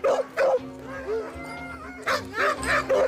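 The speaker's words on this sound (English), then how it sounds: "Dogs! Dog sleds!" Sled dogs bark, yip and whine up close in short bursts, with high excited yelps and a longer howl-like whimper between them, in a lively outdoor kennel setting.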